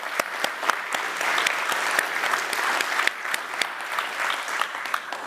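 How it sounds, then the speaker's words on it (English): An audience at a conference panel debate applauds the panelists, steady close clapping with sharp individual claps standing out throughout, alone without talk. "Big applause for the panelists and the demoists."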